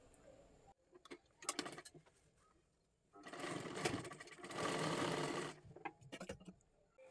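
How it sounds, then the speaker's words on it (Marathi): A sewing machine stitches a lehenga dress made from a bordered saree, with scattered clicks and short bursts before two longer steady runs of stitching, fairly quiet and close. "इथे व्यवस्थित आपल्याला शिलाई करून घ्यायची आहे"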